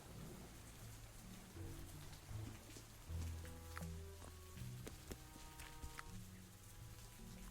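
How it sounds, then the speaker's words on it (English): Soft, steady rain patters in a scene from the game Cleo: A Pirate's Tale, faint and continuous, with scattered musical tones and low rumbles beneath it. "It's raining!"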